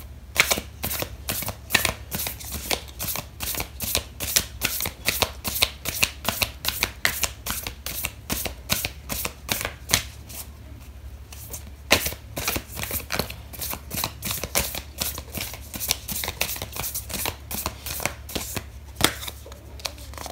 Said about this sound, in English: Okay, so Scorpio, I am going to pull out an oracle card for you.